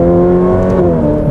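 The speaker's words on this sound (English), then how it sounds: "the sound of this motor sounds unbelievable" Ferrari F8 Tributo engine revving: a loud, close, steady engine note with strong harmonic drone that rises slightly in pitch, heard alone without talk.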